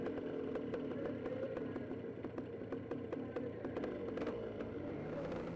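A paramotor engine runs with a steady, buzzing drone and regular clicking ticks as the throttle is added to inflate the wing; it is faint and continuous, and no one speaks.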